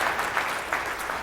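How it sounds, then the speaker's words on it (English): Keynote audience at a PMI Great Lakes event bursts into brief applause, a fairly faint wash of many hands clapping together without any talk over it. "Let's see your best show of applause if you can get better at this and you're committed to doing it."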